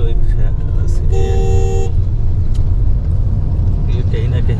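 Busy city road in India during a long self-drive road trip, with steady close traffic rumble, one sustained car horn blast partway through, and a voice talking over the noise.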